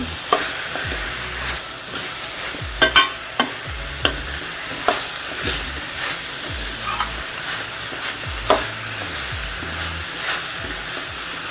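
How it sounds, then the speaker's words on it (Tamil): Chopped radish sautéing in a hot pan with oil, a steady sizzle broken by repeated sharp scrapes and taps of a spoon stirring against the pan, close and without talk. "ஒரு நிமிஷம் நல்லா வதக்கி விடுங்க."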